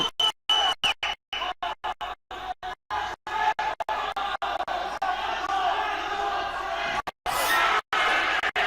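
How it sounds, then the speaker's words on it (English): Crowd noise at a youth championship, with spectators building excitement for a rivalry between neighboring countries: a dense, steady roar cut by frequent abrupt dropouts throughout. "The crowd getting hyped for this one."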